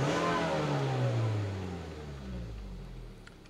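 Car engine revving under wide open throttle after a catalytic converter replacement, a loud, close roar that sweeps upward in pitch as it accelerates and then eases off, with no voices.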